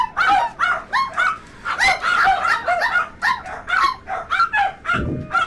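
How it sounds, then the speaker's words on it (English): Several dogs bark and yip loudly in a rapid, uneven string of sharp calls, some from inside a house, with overlapping voices from the pack and a brief thump near the end. "That's the dogs going off on one."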